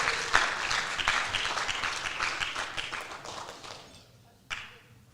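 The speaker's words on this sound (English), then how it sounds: "give Ms. Gaudier a big round of applause" Audience at a high school fall sports awards ceremony giving a round of applause, many hands clapping strongly then tapering off toward quiet, with one last burst of claps near the end.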